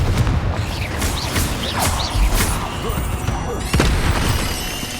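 Confringo spell blasts in Hogwarts Legacy hit spiders as a series of loud booming bursts a second or so apart, each a sharp crash with rumbling decay, over ongoing game sound.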